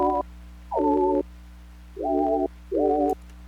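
Lo-fi synth pad built from a walkie-talkie beep, with LFO pitch vibrato making each tone wiggle; four sustained tonal notes of about half a second each, separated by short gaps, over a low steady hum.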